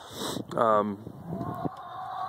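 Chickens inside a homemade coop, with a short clucking call rising over low background rustle and a few faint softer clucks following, close and moderately loud.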